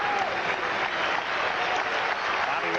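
Crowd at a 1980 Houston Astros versus Los Angeles Dodgers baseball game roaring and clapping steadily, a broad continuous wash of cheering at even loudness, with a voice faintly audible underneath.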